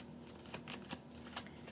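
Tarot cards being shuffled by hand, a series of soft, quick riffling flicks at close range, fairly quiet with no talking.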